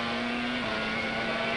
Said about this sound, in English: there's one car around that group where Brundle is driving that's got a fairly sick engine note